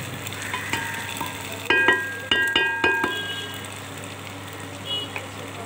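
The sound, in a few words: tomato posto frying in mustard oil in a wok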